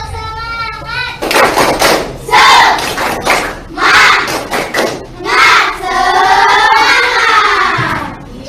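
A classroom of children performs the 'tepuk semangat' cheer, bursts of rhythmic group clapping alternating with loud shouted chanting voices, close and energetic, with a lone voice leading at the start.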